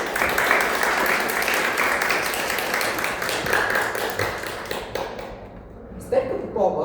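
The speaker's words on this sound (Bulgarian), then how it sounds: "Аплодисменти за Стефка Попова!" An audience applauds at a book presentation in a national library, with steady clapping that fades out near the end and a brief burst of sound after it.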